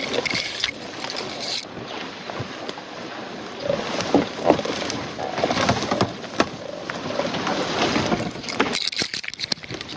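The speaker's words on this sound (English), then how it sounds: "this is all muck and mud and what have you, so I'm just going to drag the kayak loaded with all its stuff through this stretch" A loaded kayak scrapes and drags through muck and mud on a portage in Algonquin, a steady rough rustling and sloshing that continues for the whole stretch, with faint birds in the background.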